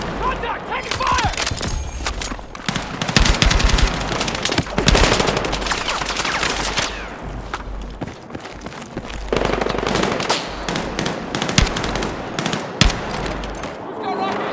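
Loud, sustained automatic fire from Battlefield 6, rapid machine-gun bursts and overlapping shots with brief lulls, busy battlefield noise and voices calling out beneath.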